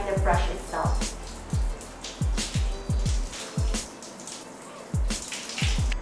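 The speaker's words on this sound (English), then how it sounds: "So what I'm gonna do now is just wet my entire face." Shower water runs and splashes as a face is wetted, with irregular broadband wet swishes and low thumping pulses of water striking skin, close and moderately loud, continuing throughout.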